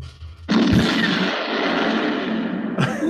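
A gunshot sound effect bursts in loudly and rolls into a long, heavy roar like an explosion that lasts nearly three seconds before a second sharp hit near the end.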